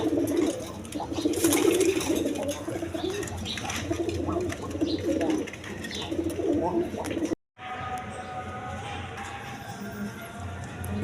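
Pigeons, large fancy breeds at a loft, cooing and shuffling nearby in a steady murmur with low background noise, a brief gap partway through.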